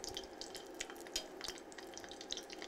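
Garlic and ginger frying in hot oil in a wok give a soft, steady crackle and sizzle with small popping ticks, fairly quiet, with no talking.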